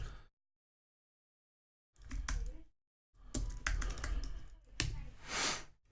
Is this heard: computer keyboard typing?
yes